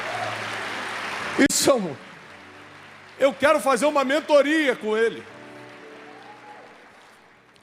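A church audience applauds briefly at the start, the clapping fading quickly before a voice takes over and continues speaking.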